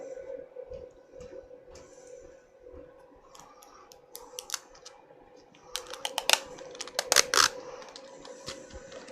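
Adhesive tape being handled near a bucket of roasted Honduras coffee, heard as soft crinkles followed by a cluster of sharp close tearing and snapping bursts under a faint steady hum.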